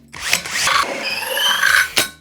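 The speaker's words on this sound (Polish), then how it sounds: "Jak będzie się sprawowała wkrętarka z otwornicą 60." A Panasonic drill driver fitted with a 60 mm hole saw bores through material, its motor whining loudly and close with a grinding, rising tone for about two seconds before stopping.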